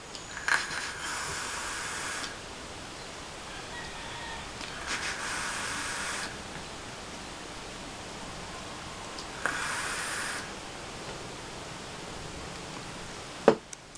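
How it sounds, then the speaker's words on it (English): Three airy hissing draws on an N22 vape from Sector One Vapors set to dual airflow, each lasting one to two seconds with pauses between, followed by a sharp click near the end. "let's go test this baby out on dual airflow. Alright, so let's give it a pull"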